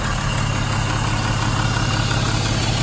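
Steady, even idle of a 1960 Jaguar Mk2 with the 3.8-litre Vicarage engine, a continuous low rumble held at close range with no talk over it.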